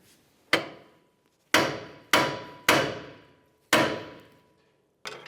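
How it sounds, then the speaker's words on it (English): Six sharp metallic hammer blows ring out at irregular intervals, each strike loud and close with a quick ringing decay, no talking, as a hammer knocks a ball joint free on a 2005-2010 Dodge Dakota front suspension. "We'll use a little bit of vibration with a hammer to break it free."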